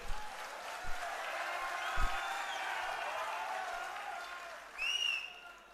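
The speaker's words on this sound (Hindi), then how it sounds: "ये जिहड़ा अपने आप ताड़ियां वजदियां हुंदियां ने वो बदलाव की निशानी हुंदियां ने" An audience at a political gathering with Punjab's SC community applauds in a steady, dense wash of clapping from a crowd, with a shrill whistle rising near the end.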